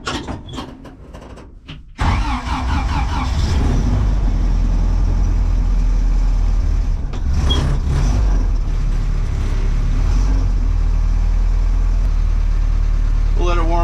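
A 1955 Willys CJ5 Jeep engine cranks over and catches after about two seconds, then settles into a steady, loud, close rumbling idle that runs on alone.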